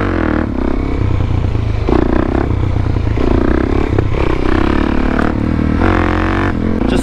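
Suzuki DRZ dirt bike fitted with an FMF aftermarket exhaust, heard while riding: a loud, continuous engine drone with repeated rises and falls in pitch as the throttle opens and eases, close up and with no talking.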